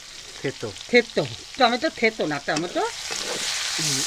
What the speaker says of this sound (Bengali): এখন এর মধ্যে পেঁয়াজ দিয়ে দিচ্ছি, কুচানো পেঁয়াজ।